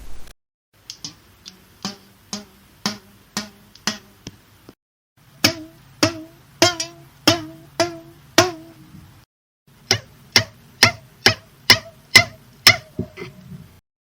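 A series of short plucked twangs from vibrating threads in three groups, long, then medium, then short thread, each group of sharp taps rising slightly in pitch, ringing briefly and fairly close.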